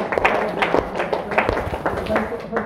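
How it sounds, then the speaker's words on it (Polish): Audience applause in a presentation hall, a burst of irregular clapping with sharp individual claps standing out, fairly close and loud, with a voice speaking over it. "Jeśli jest lepiej, to poproszę o brawa."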